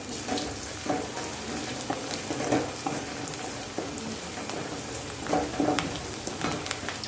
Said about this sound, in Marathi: छान असं मस्त कांदा फ्राय होतो आता